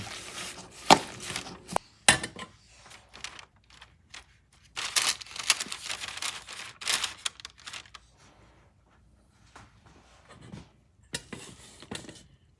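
Coconut macaroon batter being mixed by hand, irregular knocks and scraping clatters of a utensil against a bowl in uneven bursts with quiet gaps, close and clear.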